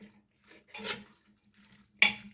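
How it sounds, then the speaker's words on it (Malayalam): A spoon stirs a beef fry masala base in a pan for Kerala-style beef fry, giving soft scraping rustles, with one louder swell in the middle and a sharp clink near the end. "ഇനി നമുക്കിത് ഒരു സ്പൂണോ കയ്യിലെന്തെങ്കിലുമൊക്കെ വെച്ചിട്ട് നല്ലോണം ഇങ്ങനെ ഇളക്കി കൊടുക്കാം"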